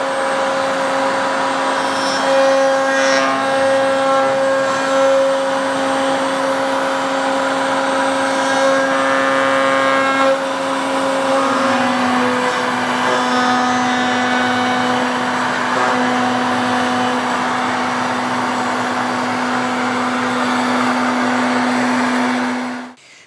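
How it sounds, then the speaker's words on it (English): A router cuts wood for a dovetail saw handle on a final light pass, a loud, continuous high-pitched whine held close for over twenty seconds before it suddenly stops. "I don't enjoy having my hands that close to a router"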